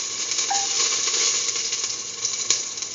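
Coriander seeds sizzling in a hot pan, a steady close frying hiss throughout with faint crackles and a small clink near the end, no talk.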